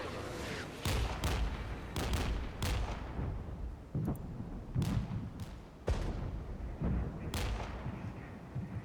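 Artillery shelling from Jaguar units in the Cold War tactics game Regiments: a series of deep booms and impacts, about a dozen spaced irregularly across the clip at moderate distance.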